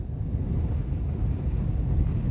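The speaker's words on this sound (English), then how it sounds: "the wind is ripping. Let me tell ya. It is just ripping." Strong wind buffets a winter campsite in below-zero cold, a steady loud rumbling roar that hits the microphone continuously with no break.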